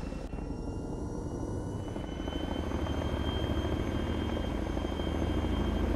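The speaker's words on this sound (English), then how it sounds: "there is a different sound to this helicopter than there is to a bunch of others" A Chinook twin-rotor helicopter in an Arma III game mod drones with a loud, continuous rotor and engine roar, steady and close throughout.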